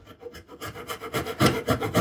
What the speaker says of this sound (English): This saw, since I had sharpened it, it's going slightly faster than the other one.